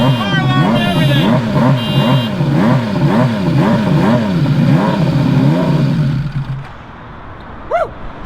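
A Honda CBX1100 turbo motorcycle engine revs hard during a burnout, rising and falling in a rapid repeating pattern of loud, close surges before cutting off, then a short whoop and one brief blip.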